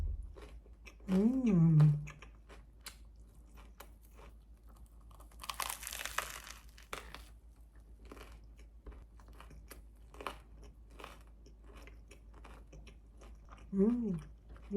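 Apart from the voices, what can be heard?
chewing a crusty baguette ham and cheese sandwich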